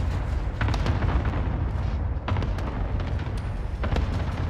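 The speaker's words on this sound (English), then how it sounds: "Enemy cluster strike incoming" Cluster strike explosions in a video game: a continuous rumble of overlapping booms and blasts, several sharper hits standing out, loud and close.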